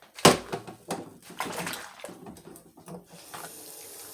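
A dish clanks into a kitchen sink with a sharp knock, followed by running tap water and scattered splashes and rattles of items being rinsed, close and without speech.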